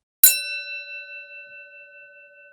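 A single bright notification bell ding strikes once, then rings out with a clear sustained tone that slowly fades, heard alone without any talk.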